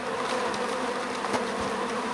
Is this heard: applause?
no